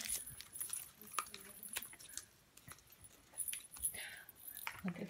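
Plastic blind-bag wrappers for Shopkins toys crinkle and rustle in short, soft, intermittent bursts, with faint voices now and then.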